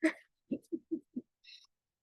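A small bird calling outdoors: an opening call, then four short, evenly spaced low hoots, then a faint higher chirp, all close and clear in a quiet setting.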